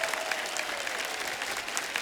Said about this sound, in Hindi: इसके लिए मैं एक बार फिर से आपके लिए तालियां बजाऊंगा